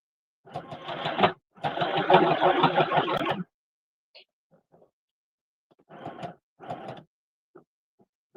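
Sewing machine stitching a quarter-inch seam on a fabric travel pillow, two close, steady bursts of whirring followed by quieter ticks and two more short runs.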